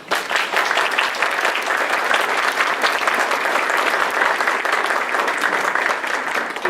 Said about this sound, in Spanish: Con un caluroso aplauso.